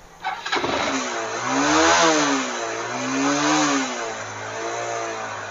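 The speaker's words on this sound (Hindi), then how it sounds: "बाइक को स्टार्ट करेंगे।" A Honda CDR motorcycle with a faulty armature coil being repaired cranks and starts, then settles into a close, steady idle that swells in two gentle revs before easing back, with no talking.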